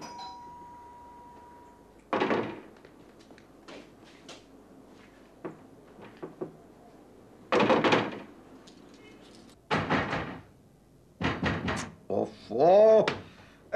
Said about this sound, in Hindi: तब से दरवाजे पर कोई खटखट किए जा रहा है, कोई दरवाजा क्यों नहीं खोलता?